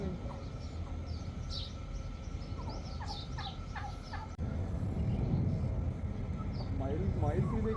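Turkeys of around ten kilograms gobble in bursts of rapid warbling calls under steady outdoor noise and people talking, with a peacock nearby.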